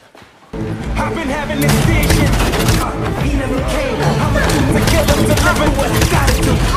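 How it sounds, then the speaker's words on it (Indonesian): Dense, continuous rapid gunfire from a film crackles loudly over a busy action soundtrack, with bursts blending into a sustained barrage after a brief quiet opening. "menembaki mereka semua tanpa takut terkena tembakan balik"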